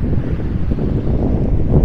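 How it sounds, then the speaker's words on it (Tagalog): Strong wind at Naminoue Beach in Okinawa buffets the microphone in a loud, low, continuous roar, with faint surf-like rumble underneath and no voices. "Sobrang hangin."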